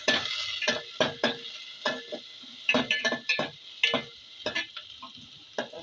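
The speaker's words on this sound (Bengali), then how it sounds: "নেড়ে দেবো।" Chopped onion and green chilli stirred in a pan: repeated scraping strokes and clinks of a spoon against metal over a steady sizzle, close and fairly loud.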